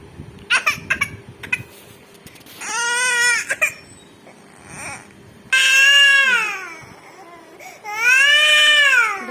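A young child cries loudly in repeated wailing bursts, with short breaks of fussing and whimpering between the cries.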